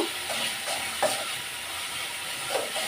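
Whole garam masala spices sizzle as they are added to a cooking pot, a steady, close frying hiss with small crackles and no voices.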